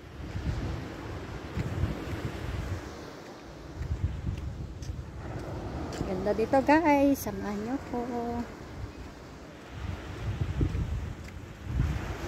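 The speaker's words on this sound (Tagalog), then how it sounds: "Malakas ang alon ngayon, dati hindi." Strong ocean waves and gusty wind at a rock formation on the Ilocos Norte coast, a rumbling surf wash with heavy wind buffeting, a brief whistle-like tone midway, and people talking over it.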